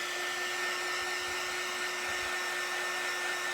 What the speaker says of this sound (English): I'm just gonna hit it with my heat gun